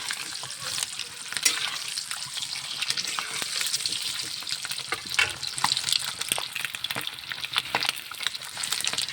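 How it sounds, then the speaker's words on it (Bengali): Eggs frying with spices in a pan, a continuous close sizzle with intermittent stirring scrapes and spatters. "এই যে আমাদের আন্ডাগুলো ভাজা হয়ে গেলে আর একটু লাল লাল করবো।"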